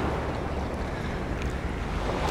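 Sea waves washing around a swimmer at the beach of the Diamond Resort in Alanya. A steady, close, roaring surf wash fills the whole moment without a break.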